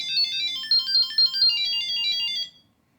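A custom ringtone plays from a Chipolo POP tracker, a bright electronic chiming melody of quick repeated notes lasting about two and a half seconds before cutting off into silence.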